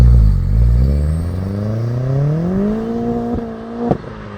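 A 330 hp clubsport-spec VW Polo GTi accelerates hard, its engine note rising steadily through the revs with a loud, close drone and a sharp clatter near the end.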